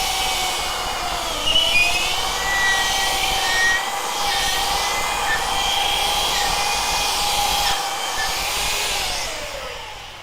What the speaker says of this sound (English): I don't leave the sander in one spot too long, because if it keeps going, it will gouge a hollow into your wood